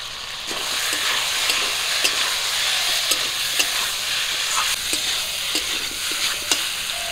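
Ginger-garlic and cumin paste frying in a pan for a lata fish curry with elephant foot yam and potatoes, a loud, continuous close sizzle with soft stirring ticks recurring throughout.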